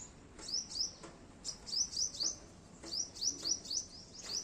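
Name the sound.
sparrow chirping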